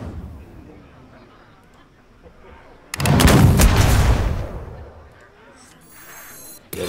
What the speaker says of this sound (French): J'ai un énorme fusil!